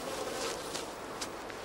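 Killer bees buzzing in a film scene about a killer bee invasion, a steady, dense insect drone that holds at an even level throughout with no voices.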